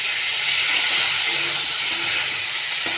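Small marinated river fish sizzle steadily in hot oil and a spicy tomato-onion masala in a pan, a loud, continuous broadband hiss with no talking.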